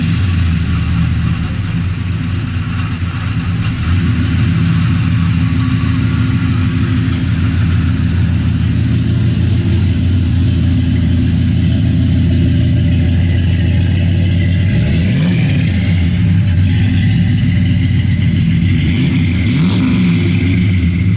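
A 1971 Chevrolet Super Cheyenne 4x4 truck engine runs steadily at a loud, close idle with a deep low rumble, rising briefly in a few revs near the end, with no talking.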